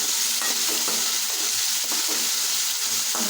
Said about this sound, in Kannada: ಒಂದು ದೊಡ್ಡ ಸೈಜಲ್ಲಿ ಇದ್ದಂಥ ಟೊಮೊಟೊನ ಹಾಕೊಳತ್ತೀನಿ ನೋಡಿರಿ ಹಾಕೊಂಡ್ಬಿಟ್ಟು ಚಲೋ ಫ್ರೈ ಮಾಡ್ಕೋಬೇಕು